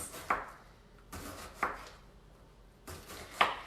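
A knife chops an onion on a cutting board in a home kitchen, three crisp, evenly spaced strokes about a second and a half apart, faint and close.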